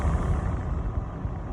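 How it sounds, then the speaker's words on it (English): A car's ventilation fan blows steadily, a continuous low airy rush with a soft rumble, close and even throughout, with no speech. "I'm going to turn on the car fan."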